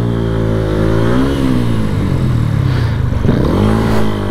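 A motorcycle engine running with a sponge fitted as its air filter, revving in loud, wavering swells over a rough idle, close by and with no voices.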